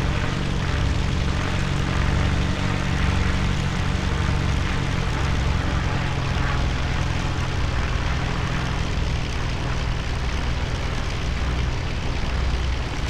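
Single-engine propeller warplane taxiing in the IL-2 Battle of Stalingrad flight simulator, a steady loud droning engine roar with a constant pitch that holds throughout.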